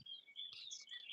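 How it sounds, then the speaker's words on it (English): Birds chirping and tweeting outdoors, faint and somewhat distant, in a steady stream of high, thin calls with no talking. "Maybe you can hear the birds in the background."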